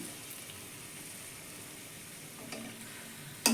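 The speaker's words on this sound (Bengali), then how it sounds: "তাই এরকম করে আমি সব কটাই ভেজে নেব" Luchi frying in hot oil give off a soft, steady sizzle with a faint crackle, ending in a sudden louder clunk.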